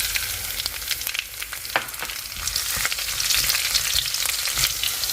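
Green chillies sizzle steadily in hot coconut oil after mustard seeds have popped, a dish for a Vishu sadya feast. The hiss is close and continuous, with sharper crackles now and then, and no one speaks.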